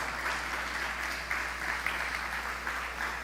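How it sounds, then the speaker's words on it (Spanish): Congregation applause in church rolls steadily from start to end, moderately loud with a faint low hum beneath and no voices on top. "Denle un fuerte aplauso al Señor."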